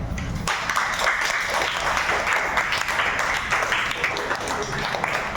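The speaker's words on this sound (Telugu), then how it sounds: "Very good, claps." Schoolchildren clap together in a classroom, a dense, steady wash of applause that holds from start to finish without a break.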